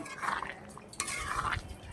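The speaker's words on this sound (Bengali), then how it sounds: "এটাকে আমি এখন ভালো করে আবারও একটু নেড়ে দেবো" Vegetarian potato curry (aloo dum) is stirred in a pan, giving a soft scraping and clinking of a spoon against metal in two short bursts, close and fairly quiet, with no talking.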